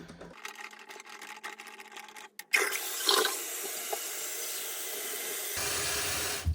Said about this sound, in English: So I'll just give you a quick flush here and show you.